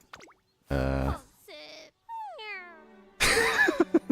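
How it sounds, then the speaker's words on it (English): A sad cat meow sound effect from the Umamusume: Pretty Derby video game plays as several distinct, sliding, plaintive meows, loud and clean against silence, ending in a harsher, noisier cry. "Sad meow."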